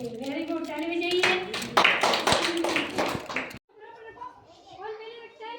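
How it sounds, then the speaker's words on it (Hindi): Children clap their hands together in a brisk, loud burst of rapid claps lasting a few seconds; it stops abruptly and a voice follows. "Very good, Tali बजाइए।"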